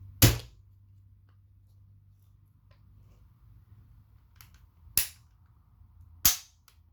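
Three sharp mechanical snaps from an SKS rifle trigger fitted in a bullpup chassis, one near the start and two close together near the end, with quiet gaps between them.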